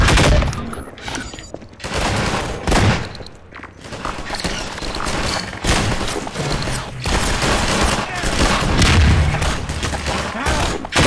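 Grenade explosion amid a firefight in the video game Half-Life 2: rapid gunfire bursts and booming blasts in loud, uneven waves across the whole stretch.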